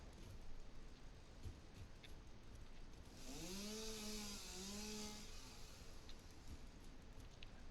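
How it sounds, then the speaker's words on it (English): A chainsaw in the Satisfactory video game cuts through mycelium, a rising and falling whine that swells for about two seconds midway over a steady background hum. "We just get to go chainsaw mode on these mycelium."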